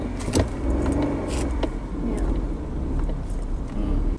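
A manual car sits in first gear for an uphill stop-and-go start as its engine is held at a steady rev of about 2500 RPM, a continuous close low drone with a faint jingle near the start.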